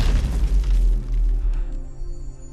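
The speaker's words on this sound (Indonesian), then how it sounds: "Sijin melempar granat yang membersihkan zombie yang mengikuti mereka." A grenade blast in a zombie film scene, a heavy deep boom that rumbles and slowly fades over a couple of seconds, loud and alone without voices.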